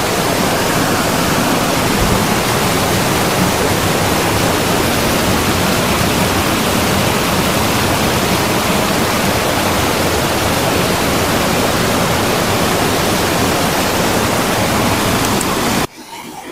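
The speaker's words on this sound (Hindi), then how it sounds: "अगर ऑन नहीं करेंगे तो सिर्फ पानी का आवाज आएगा और मेरा बिल्कुल भी नहीं आएगा" Strong water rushes past a village, a loud, dense, unbroken roar like a torrent that fills the whole clip and cuts off abruptly at the end.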